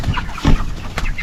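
Chickens clucking close by in a hot yard, a few short throaty clucks over a low rumbling background.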